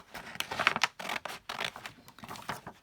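Scissors snipping through a printed paper tag, a close series of crisp scratchy cuts and paper rustles in quick irregular bursts, no talking.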